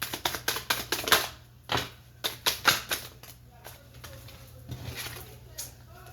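Tarot cards are shuffled by hand in a quiet room, making a series of crisp slaps and flicks in uneven clusters, with short pauses between bursts.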